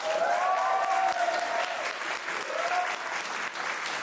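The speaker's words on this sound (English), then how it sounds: "Make some noise for all of our poets so far." Audience at a poetry slam in Sheffield applauding and cheering for the poets, dense sustained clapping with a few whoops rising above it throughout.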